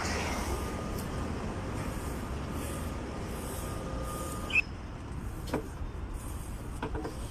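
A double-decker train in Vienna rumbles with a steady low, close drone, broken by a brief clunk and a few light knocks partway through.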